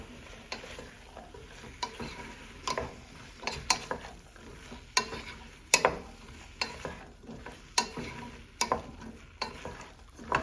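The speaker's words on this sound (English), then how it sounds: "Give it a nice mix." Okra (bhindi) being stirred in a pan with a drop of oil, a steady run of close spatula scrapes and clacks in irregular rhythm over a faint sizzle, with no talking.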